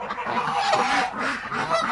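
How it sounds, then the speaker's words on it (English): Repeated nasal honking calls from a Canada goose on a farm, fairly close, with a steady outdoor hiss underneath. "Oh, and of course, the Canadian goose."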